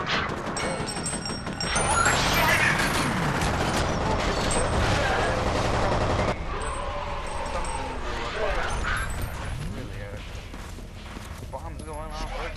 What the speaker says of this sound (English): Bombs going off everywhere. I'm getting shot from every single direction.